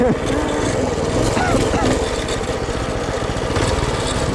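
A $100 minibike's small engine revs hard and steadily during a wheelie ride, a loud, continuous buzzing drone close by that rises and falls slightly, with voices talking over it.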